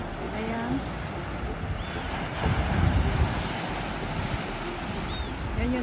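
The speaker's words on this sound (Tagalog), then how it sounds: "Yan yung tunog ng hampas ng alon." Ocean waves washing onto a Bermuda beach, a continuous roar of surf with wind buffeting the microphone and a swell building in the middle, heard up close and alone.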